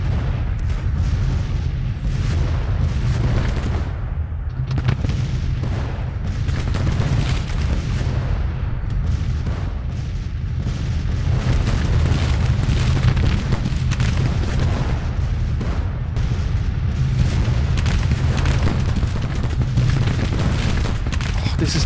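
Whitworth rifled artillery and battlefield gunfire in a Grand Tactician Civil War strategy game, a dense continuous barrage of booms and crackling shots throughout, loud and unbroken.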